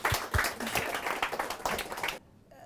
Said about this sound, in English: let's all give a round of applause to Dr. Nigel Eccles.